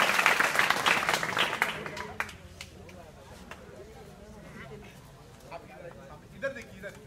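Students in an intermediate college classroom clap together, a loud, brief burst of applause that dies away after a couple of seconds into quieter room sounds and scattered voices.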